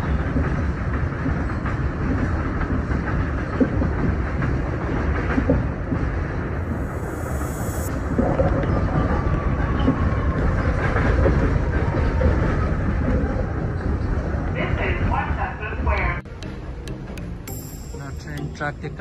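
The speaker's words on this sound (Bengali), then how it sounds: "এখান থেকেই 6 ট্রেন পুরো সিটিতে চলাফেরা করে" An electric New York City 6 subway train rumbles steadily through a rail yard, a continuous loud roar with clattering wheels and metallic squeals, while a person talks over it.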